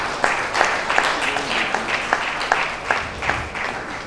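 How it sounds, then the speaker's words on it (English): Audience applause at an environmental engineers' conference in Port Harcourt, a moderate room of hands clapping in uneven, rhythmic bursts for several seconds. "Please, can we have a better round of applause for him?"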